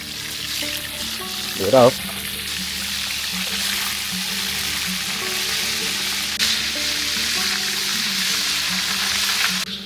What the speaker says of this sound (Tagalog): Mainit na yung mantika, pwede na tayo magsalang nitong ating daing